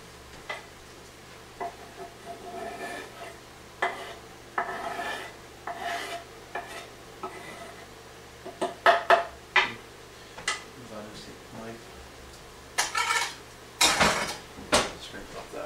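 Chopped garlic is scraped off a cutting board into a pot with a knife, giving scattered short scrapes and taps that grow louder and more frequent toward the end, heard close in a quiet kitchen.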